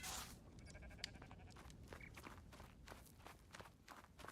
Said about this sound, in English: Random sheep here.